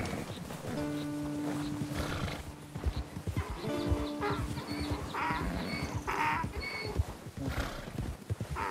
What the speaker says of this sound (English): He's a good horse.